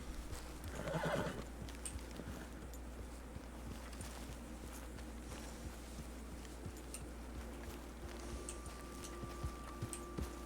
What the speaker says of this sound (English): I'll tell the horse to follow.